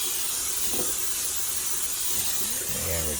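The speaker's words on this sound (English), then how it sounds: "I'm going to spray the pan." A steady, continuous hissing of cooking spray onto a pan runs through the whole stretch, close and even, with a faint clatter and a brief low hum near the end.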